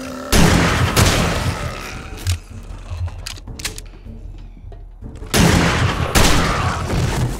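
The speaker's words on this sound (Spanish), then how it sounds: "¡Hostia, cómo pega la escopeta!" Shotgun blasts in the 7 Days to Die video game, loud booming shots with dense crackling bursts at the start and again near the end, separated by quieter rumbling action.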